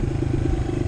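A motorcycle engine revs hard and close, a steady throbbing, loud roar over a short burst with a rattly mechanical edge, after an oil change on an afternoon ride.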